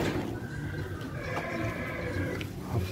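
At a horse exhibition in Ceará, a mare gives a thin neigh that rises in pitch and then fades, set against crowd noise and the hum of the venue.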